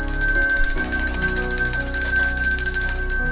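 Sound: bell ringing

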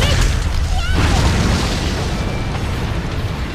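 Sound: firecracker-covered counter exploding when hit, video game

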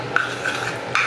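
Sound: mixing a broken piece of contour makeup

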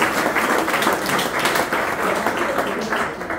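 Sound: audience applause

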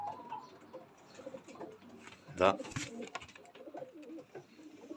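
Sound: pigeons cooing in a pigeon loft

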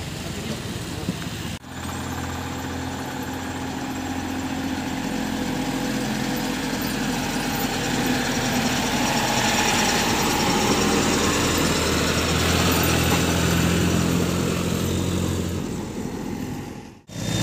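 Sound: Massey Ferguson 1035 40HP tractor engine pulling a trolley

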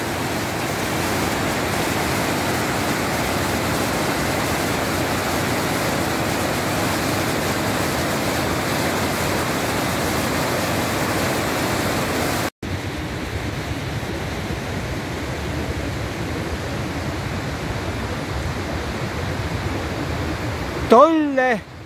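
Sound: waterfall and mountain stream in Pitztal

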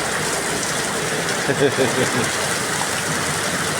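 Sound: heavy rain

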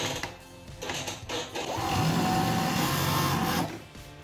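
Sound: sewing machine stitching a waistband on shorts

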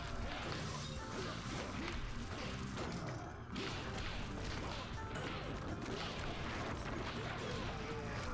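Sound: smashing enemies through objects in video game One Finger Death Punch

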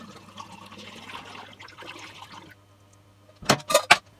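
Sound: pouring cooled sugar solution into a demijohn

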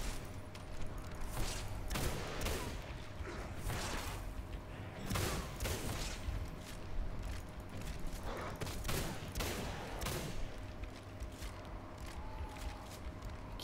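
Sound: gunfire from the video game Singularity

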